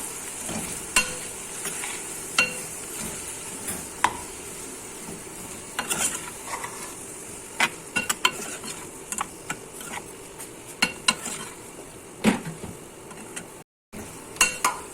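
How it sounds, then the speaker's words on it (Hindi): A spoon stirs a yogurt and mutton mixture in a pan for Bhuna Dahi Gosht, a soft scraping bed broken by repeated sharp metallic clinks and scrapes, close and without talking. "अब इसे मिक्स करेंगे"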